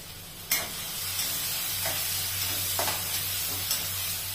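Finely chopped onion with garlic-ginger paste sautés in a pan. A soft continuous sizzle carries a few sharp stirring clicks from a spoon against the pan, over a faint low hum.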